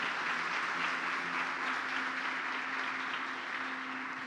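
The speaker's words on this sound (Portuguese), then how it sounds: "Você pode aplaudir essa palavra nessa manhã?" Church congregation applauding during a Sunday morning service, a steady, moderately loud crowd of clapping hands with a faint sustained tone underneath, holding evenly throughout without speech.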